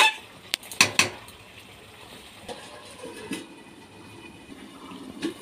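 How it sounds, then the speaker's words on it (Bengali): Chicken pieces are stirred in a cooking pot, with a few sharp metallic clinks of a utensil against the pot near the start, followed by quieter scraping and faint occasional knocks. "তো এবারে আমি চিকেনগুলো দিয়ে দিয়েছি। এখন নাড়াচাড়া করব কিছুটা।"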